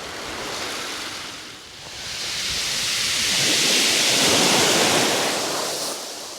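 Ocean surf on the shingle of Chesil Beach in Dorset swells into a broad, roaring wash that builds and fades with the wave, loud and close, with wind buffeting and no speech.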